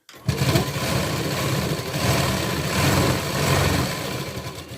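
A sewing machine runs a straight seam on a katori blouse, starting abruptly and then holding a loud, steady motor hum with a rapid needle chatter, swelling slightly in places and continuing without pause.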